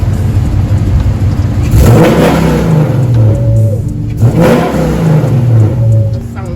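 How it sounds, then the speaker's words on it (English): A loud Dodge Charger R/T V8 revs up close a few times, each rise a deep roar climbing and falling back to a rumbling idle. "let me rev it up a few times so you can hear it"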